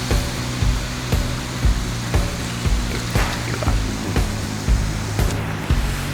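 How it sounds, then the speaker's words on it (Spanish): Sea waves wash onto the beach at Rimini, Italy, a loud continuous rushing surf with rhythmic swells roughly every second, close to the listener, with no voices. "el oleaje es similar al de Cabo ahorita"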